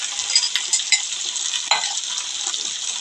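Green chilli, garlic and coriander paste is stirred into a cluster bean curry in a hot pan, a close steady sizzle with intermittent scraping and light utensil knocks; no talking.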